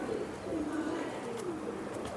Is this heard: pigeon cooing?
yes